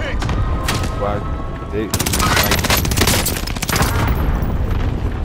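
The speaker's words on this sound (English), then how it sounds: "Designating target for airstrike." Heavy gunfire and booming blasts during an airstrike in Call of Duty Warzone, loud dense bursts with sharp explosive cracks close by, and a brief spoken word over the noise.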